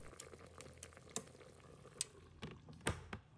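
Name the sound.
pig trotters turned in pot with chopsticks and spatula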